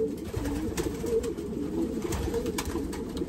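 Soft, repeated pigeon coos, low and throaty, with a faint steady hiss behind them.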